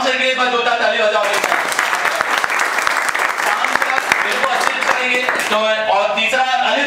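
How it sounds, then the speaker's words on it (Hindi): Someone speaks briefly, then a classroom of students bursts into loud, sustained clapping for about four seconds. The applause fades back to his voice near the end. "आप शाम से एक बार जोरदार ताली बजाओ"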